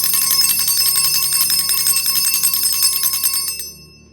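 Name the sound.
bell rung to release energy in tarot reading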